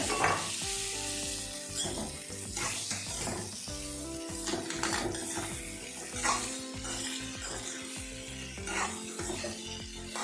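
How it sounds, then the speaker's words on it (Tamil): Chopped gooseberries stirred into a sizzling pickle mixture in a pan: continuous frying sizzle with repeated scraping and clinking of a spoon against the pan, close and steady, no voices. "நம்ம ஏற்கனவே சின்னதாக கட் பண்ணி வச்சிருக்கிற நெல்லிக்காவை ஆட் பண்ணிக்கலாம். நல்லா கலந்து விட்டுருங்க."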